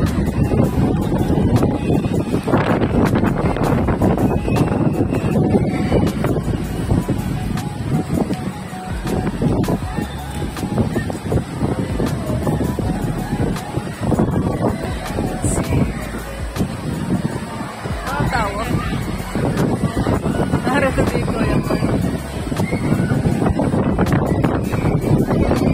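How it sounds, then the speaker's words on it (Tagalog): Steady, heavy wind roars and buffets the microphone throughout, with faint voices and outdoor background mixed underneath, by a resort pool in Pampanga, Philippines. "Lakas ng hangin."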